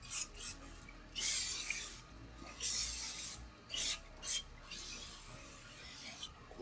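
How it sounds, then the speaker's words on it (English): Parts cleaner is sprayed onto the back of a BMW N54 engine in several short, sharp hissing bursts, close by, with quieter rubbing and handling between them. "use some of this parts cleaner, clean up the back of this motor a little bit"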